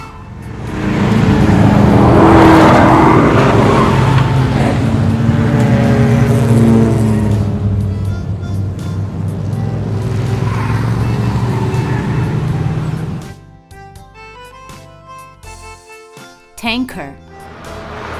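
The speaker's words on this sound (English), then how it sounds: "Race car." A race car engine roars loudly and steadily for about thirteen seconds, then cuts away to quieter, sparse tones.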